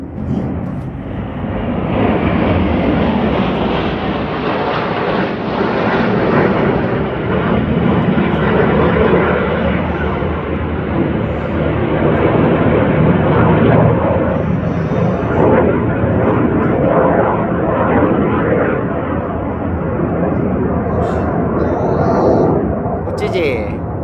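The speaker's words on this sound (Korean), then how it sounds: "아니 리나 지금 에어쇼 하는 거 같아 여기서." Swiss Air Force jets at an air show over Grindelwald build into a loud, sustained roaring rush that holds for most of the stretch, while people chat nearby.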